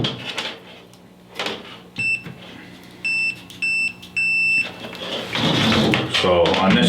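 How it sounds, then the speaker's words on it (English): A multimeter beeping during a continuity test on a transformer winding, five short steady electronic tones, some clipped and some held about half a second, amid handling clicks and a voice talking. "the continuity test is just simply done with your multimeter. You just turn it to the ohm reader"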